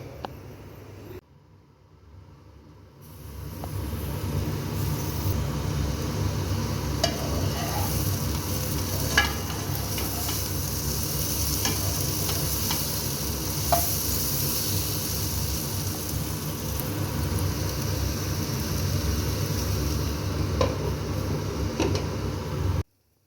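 Okra masala sizzling in a pan with a lid, a steady hiss of frying with occasional scraping stirs and small pops, continuous and close.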